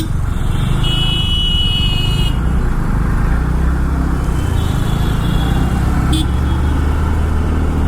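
Busy Delhi road traffic with car and motorbike engines rumbling steadily and close, while a few brief horn toots and beeps cut through the dense noise.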